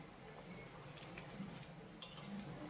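Paneer being stirred into simmering gravy in a pan for a vegetarian dinner dish, with faint scraping and soft clinks of a spoon against the pan over a low bubbling background.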